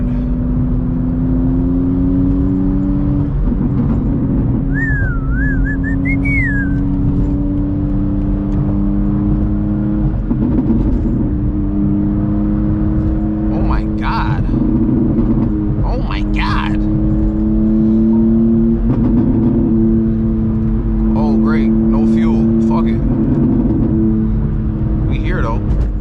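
A loud BMW M2 engine hums and swells in steady revs while cruising through New York City streets, the drone rising and falling with occasional sharper bursts, and a person talks over it.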